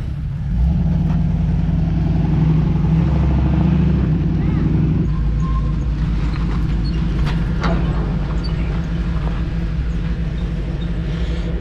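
A Ford car rolls toward a lake with a constant loud low engine rumble and road noise, with people talking inside over it.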